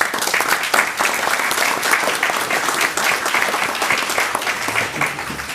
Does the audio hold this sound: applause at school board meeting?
yes